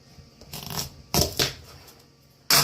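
A knife cuts through a tough raw spaghetti squash in a home kitchen, giving several sharp, crunchy scraping bursts in uneven strokes with short gaps between them, close and fairly loud, with no talking.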